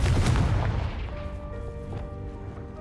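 A Confringo fire-blast spell from the Hogwarts Legacy video game lands as one loud, booming burst with a short crackling tail that fades over a couple of seconds, heard alone.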